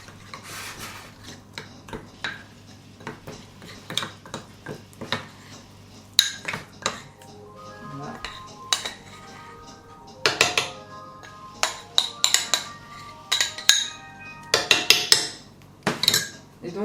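A utensil stirs cabri massalé, a goat curry, in a pot, with irregular scraping and knocking clinks that grow busier and louder toward the end, close and without talk.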